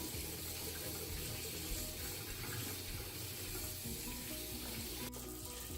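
Jalapeño peppers are rinsed under a steady stream of running tap water, a continuous close, even splashing rush with no talking.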